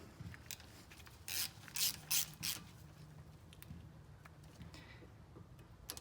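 Brake bolts being snugged up on a Honda Civic during a brake job: a few brief ratchet clicks and metallic rasps up close, then quieter scattered ticks.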